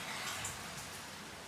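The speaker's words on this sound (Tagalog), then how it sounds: "Malakas ang ulan." Heavy outdoor rain makes a steady, dense hiss that stays even and unbroken, heard alone at low level through a wireless lavalier microphone.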